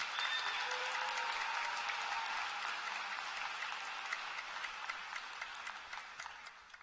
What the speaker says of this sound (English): Can we just have another round of applause for Sophia?